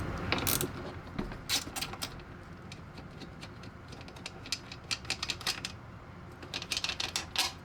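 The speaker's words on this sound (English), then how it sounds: "now using a Torx T30, I'm going to remove these 3 bolts." Bolts come off a Jeep Cherokee door under a Torx T30 ratchet, giving quick bursts of fine metallic clicking, close and fairly quiet, repeated in short runs with pauses between them.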